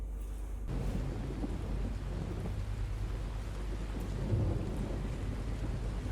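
Steady rain with a low, rolling rumble of thunder in the TV show Dark, a continuous wash of rainfall with a deeper swell near the end and no speech over it.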